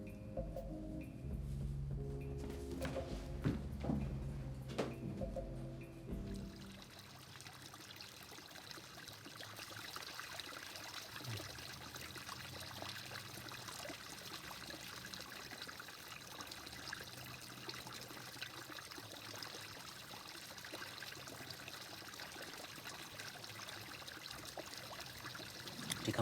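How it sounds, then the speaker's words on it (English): Water trickles and runs from a drinking fountain, with louder splashes at first that settle into a steady, soft, close stream lasting a long while. No voices are heard over it. "It's a water fountain."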